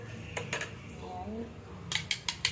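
Eggs are whisked in a bowl for tortang talong, eggplant omelette, with clusters of quick clinking taps of utensil against the bowl, near and moderately loud, and a voice murmuring between the bursts.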